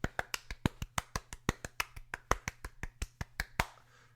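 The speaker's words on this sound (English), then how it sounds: "I clapped in a circle to be a round of applause." One person claps hands in a quick, even rhythm of about twenty crisp, close slaps, played as a joke round of applause on a podcast, with a brief soft tail after the last clap and no talk.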